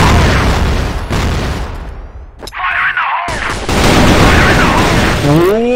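Grenade explosions in a multiplayer shooter video game: loud, heavy booms with rumbling tails, mixed with gunfire and game effects, filling most of the moment with a brief dip in between.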